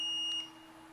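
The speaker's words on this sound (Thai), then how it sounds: "เลือกพลัง30จูลแล้วกดชาร์จเมื่อมีเสียงว่าชาร์จเสร็จแล้ว" An R Series defibrillator sounds a steady, sustained electronic tone once charging completes; the tone holds for a moment and then stops, in a quiet room.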